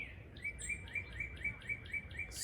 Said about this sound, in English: Listen, can you hear the birds?